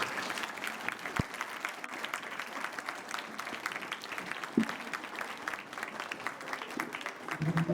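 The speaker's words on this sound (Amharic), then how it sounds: "አጨብጭቡላቸው፣ ዌልካም በሏቸው።" An audience at a church ministry gathering claps to welcome visiting guests, producing sustained, dense applause at a steady level, with a few voices faintly mixed in.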